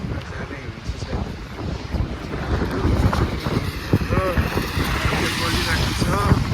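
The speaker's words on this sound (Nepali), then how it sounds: "एकदमै चिसो हावा चलिरहेको छ" Cold wind blows steadily across an outdoor street, making a broad, rough rush that swells and stays loud throughout. People talk over it.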